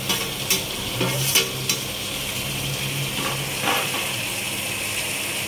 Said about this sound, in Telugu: దీంట్లో టమాటోలు వేస్తున్నాను, 4 టమాటోలు వేస్తున్నాను.